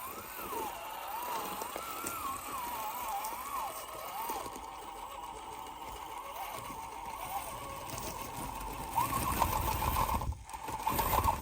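An FCX24 Power Wagon RC crawler drives an indoor course, its small motor giving a steady, wavering high whine that runs throughout, rising a little louder near the end.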